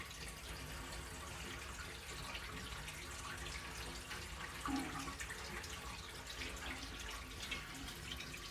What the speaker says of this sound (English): Oh, that drains fast.